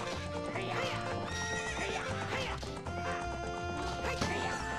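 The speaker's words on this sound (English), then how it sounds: "What's with that horse?" In The Legend of Zelda: Ocarina of Time, a horse gallops with rhythmic clip-clop hoofbeats and repeated neighs and whinnies over game music, with a voice talking faintly underneath.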